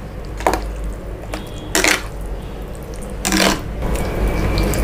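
A spoon mixes curd rice in a metal vessel, giving a few separate clinks and scrapes against the dish over a steady background hum.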